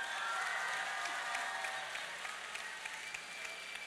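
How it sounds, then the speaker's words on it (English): An audience at a school talent show claps in a dense, steady burst that tapers slightly toward the end, filling the room without any talk over it. "applause"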